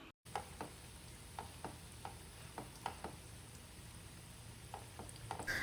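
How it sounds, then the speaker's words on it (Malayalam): A cabbage evening snack fries in oil in a pan over a medium flame, giving a soft steady sizzle broken by faint scraping stirs and spoon taps, with no talking. "മീഡിയം ഫ്ലെയിമിൽ ഇട്ടിട്ട് വേണം ഇതൊന്ന് വറുത്തെടുക്കാൻ വേണ്ടി"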